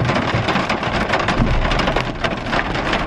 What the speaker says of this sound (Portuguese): A gente levou uma chuva agora na cabeça.